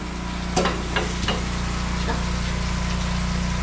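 Food sautéing in a pan with a steady, loud frying sizzle throughout, broken near the start by a few sharp clatters of a utensil stirring, while a large fish meal is cooked.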